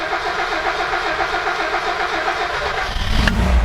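A car engine cranks with a rhythmic, labouring churn, then catches near the end with a sharp bump into a louder, rougher run, close and loud.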